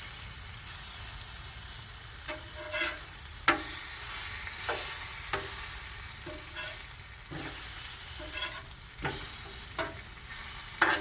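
Stir fry sizzles steadily on a Blackstone griddle, with a constant hiss broken by repeated scraping and stirring strokes of a spatula every second or so, close by and with no talking.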